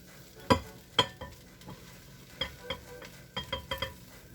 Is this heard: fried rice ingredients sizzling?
yes